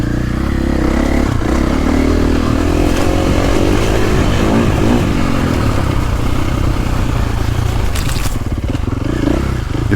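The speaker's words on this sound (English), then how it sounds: "I like to bring even my motorbikes into the woods" A KTM 450 dirt bike ridden along a wooded trail covered in fallen leaves, its engine droning loud and close throughout, with scraping and clattering from the terrain underneath.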